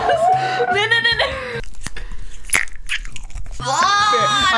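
Wet smacking and crunchy chewing from an ASMR eating recording, close and loud, sounding in short bursts between stretches of talk and voiced reactions.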